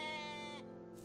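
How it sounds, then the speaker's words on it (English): A sheep in the video game OneShot bleats once, a short, clear, tonal bleat heard alone and close. "Hello, sheep."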